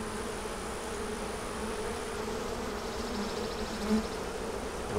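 Honeybees buzz steadily and densely from an opened hive during an inspection, close and continuous, with faint insect flutters rising now and then.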